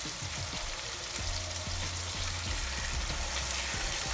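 A Ghanaian fish stew cooking in a pot, giving a dense, steady sizzle and bubbling close by for a few seconds, with faint utensil taps underneath and no voices.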